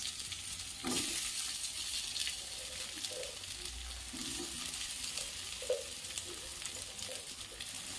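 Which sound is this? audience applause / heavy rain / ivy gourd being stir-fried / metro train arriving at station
ivy gourd being stir-fried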